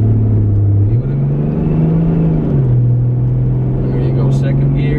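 A Toyota Land Cruiser HDJ81V with a 1HD-T 4.2-litre turbo diesel accelerating from inside the cab, a loud, steady low engine drone that climbs in pitch, with a brief dip partway through as it shifts, then keeps pulling.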